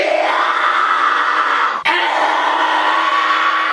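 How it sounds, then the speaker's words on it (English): A single sustained, very loud and piercing high scream produced with the false vocal cords, held steadily for nearly four seconds with one brief break midway and no talk over it. "So, high screams."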